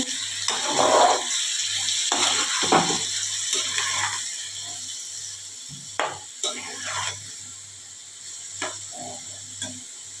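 Chicken being sautéed in a pan for a Bengali-style kosha meat dish, with a spatula stirring and scraping in several short, clattering bursts over a low background hum.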